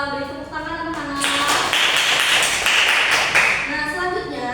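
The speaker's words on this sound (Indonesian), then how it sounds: "Keren Rizka, beri tepuk tangan anak-anak." Children in a classroom clap together in praise of a classmate, a brief burst of quick, close hand claps that swells and then eases, with a teacher's voice speaking before and after it.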